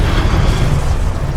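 Incendio fire spell going off in Hogwarts Legacy combat: a loud, continuous roaring burst with a heavy low-end rumble that fills the whole moment, with no voices.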